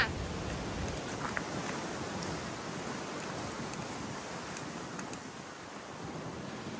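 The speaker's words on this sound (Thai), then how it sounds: "ฝนมันตกอะ" Steady rain hisses down without pause, a dense wash of noise with faint wind and no voices.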